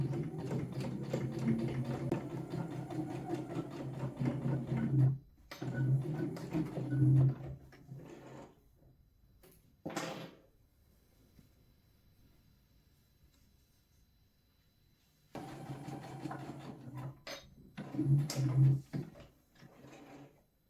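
Sewing machine running in bursts while stitching nested seams on quilt fabric under the presser foot, a steady whirring hum with brief pauses and a quiet stretch in the middle before the stitching resumes.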